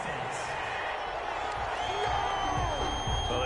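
A stadium crowd in a PS4 football video game reacts to a penalty flag with a sustained, dense roar of booing and shouting, loud and continuous throughout, with a commentator talking over it.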